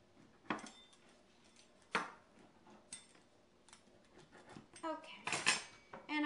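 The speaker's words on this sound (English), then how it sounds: "4 brown rice tortilla chips that you're going to cut with your pizza cutter into 8 wedges" A pizza cutter rolls through brown rice tortilla chips, giving faint crisp cracks and clicks against a board at irregular intervals, with a few louder crunches near the end in a quiet kitchen.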